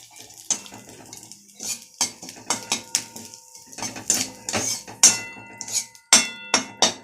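Crispy fried flattened rice (chire bhaja) with curry leaves is tipped out of a hot wok, giving a lively run of metallic clinks, scrapes and rattling knocks, close and irregular, with no voices.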